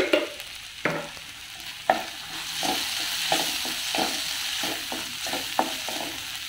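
Leftover rice tossed with Malvani roasted masala in a pan, repeated sharp spatula scrapes and knocks at an irregular pace over a soft steady sizzle, close and fairly loud, with no talking.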